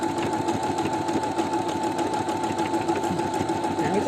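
A new sewing machine running a picot stitch at short stitch length: a continuous, fast mechanical whirr with a rapid even needle clatter throughout, close and steady.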